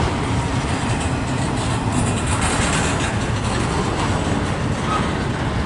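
A long CSX freight train passes at Fostoria, Ohio, with a steady, close rumble of wheels and rolling cars and a continuous rattling clatter throughout, no voices.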